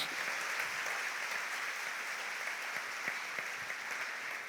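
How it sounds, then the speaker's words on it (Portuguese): A church congregation applauds at a morning service, a steady, fairly distant wash of many hands clapping throughout. "Você pode aplaudir o nome de Jesus."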